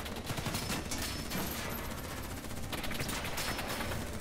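Dense gunfire in Call of Duty: Black Ops III, a continuous barrage of overlapping automatic shots at steady loudness, heard at some distance, with no speech over it.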